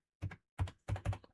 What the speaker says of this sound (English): So you can pop your name on the keyboard